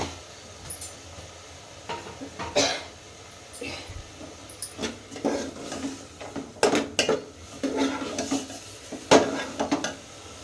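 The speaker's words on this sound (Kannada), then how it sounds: "ಅರಿಶಿನ ಹಾಕ್ಕೊಂಡು ಒಂದು 5-10 ನಿಮಿಷ ಒಗ್ಗರಣೆಯಲ್ಲಿ ಚೆನ್ನಾಗಿ ಮೂಲಂಗಿನ ಫ್ರೈ ಮಾಡಿಕೊಂಡ್ರೆ ಬೇಗ ಬೆಂದೋಗುತ್ತೆ" A metal spoon scrapes and clinks in a pot of radish pieces frying with turmeric in a spice tempering, with irregular stirring knocks close up over a faint sizzle.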